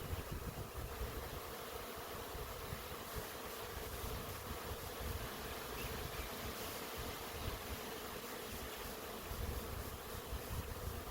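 A honey bee swarm hangs in a tree as it is captured, filling the air with a faint, continuous, even buzzing hum from many bees with no voices.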